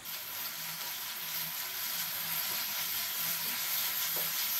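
Chilli prawn sauce with pepper and sugar is stirred in a pan, and a continuous broad hiss of sizzling steadies and grows slightly louder. A few soft scrapes sit in the sizzle, and no one talks.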